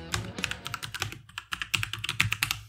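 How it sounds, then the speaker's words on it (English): Typing on a computer keyboard, entering a command in a terminal: a quick, irregular run of crisp key clicks close up, with short pauses between bursts and no voice. "open up a terminal, type in .NET New Podcast"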